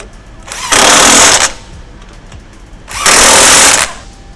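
Two long bursts of a power impact tool tighten nuts on a control arm strut during a front suspension conversion on a 2021-2025 Chevrolet Suburban, each rattling burst loud and close, about a second long, with a quiet gap between.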